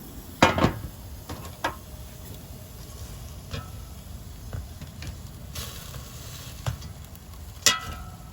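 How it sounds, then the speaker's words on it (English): Boneless pork chops being flipped in an air fryer basket: a few sharp metallic clinks and taps of tongs on the basket, some separated by quiet gaps, over a faint steady hiss, with no talking. "let's flip the pork chops over."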